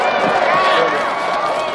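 A large crowd at an Incheon campaign rally for presidential candidate Lee Jae-myung chants his name in unison, a dense, loud, continuous roar of many voices.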